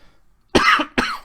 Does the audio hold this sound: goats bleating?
no